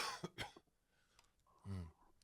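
A person with asthma coughs twice in quick succession, then after a pause gives a deeper single cough or throat clear, close and fairly quiet.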